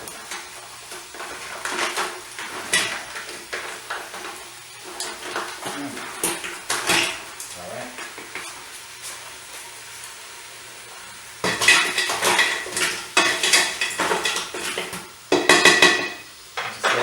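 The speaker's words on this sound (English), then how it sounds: "You have to break them up a little bit to get them in there." Frozen mussels being broken apart and pushed into a cooking pot for moules frites, giving irregular clattering shell-on-metal clunks with a faint sizzle beneath, growing louder in a dense burst of rattling toward the end.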